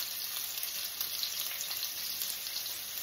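Garlic sautéing in a hot pan, a steady bright hiss of frying oil that continues evenly throughout without pauses.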